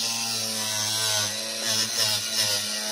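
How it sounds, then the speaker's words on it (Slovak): Angle grinder cutting through an exhaust pipe while a custom exhaust is fabricated for a Golf 4 1.9 TDI, giving a steady, loud, continuous metallic whine with no talk over it. "túto zarežeme z flexu"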